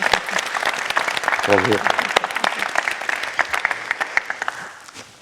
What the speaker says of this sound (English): join me in giving everyone a warm hand of applause